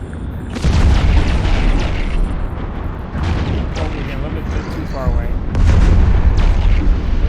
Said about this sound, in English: I love the explosions in the game, though. They're very dramatic, to say the least.